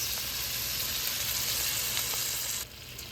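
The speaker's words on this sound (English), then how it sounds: "Ooh, I love that sizzle." Chicken browning in a pan gives a steady, dense sizzle that holds evenly and then drops quieter near the end, with no talk over it.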